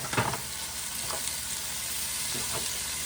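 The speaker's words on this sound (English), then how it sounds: "I'm going to saute the onions" Onions sautéing in a big Dutch oven for jambalaya, a soft steady sizzle with a few light stirring scrapes near the start and end.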